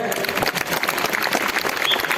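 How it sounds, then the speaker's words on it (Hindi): Dense applause from an audience at a yoga and pranayama demonstration by children, steady and fairly loud throughout the short stretch, with a voice partly audible over the clapping. "ताली बजाइए जोर से।"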